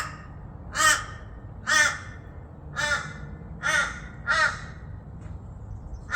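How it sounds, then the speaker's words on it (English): Crows caw outdoors, five loud, harsh calls spaced about a second apart over quiet background noise. "It's good the birds are there."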